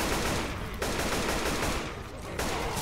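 Rapid automatic gunfire from the video game Left 4 Dead 2 rattles in dense continuous bursts, with short pauses between volleys and no talk over it.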